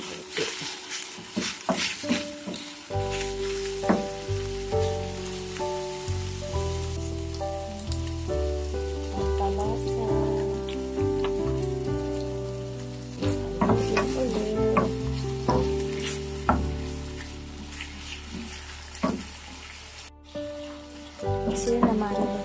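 Onions stirred and fried in a pan while preparing breakfast, a steady close sizzle with repeated scraping stirs throughout, a soft voice speaking briefly in the background.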